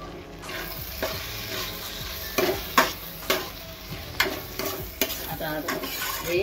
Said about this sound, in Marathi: आता हे मिक्स करून घेऊया 2 मिनिटासाठी.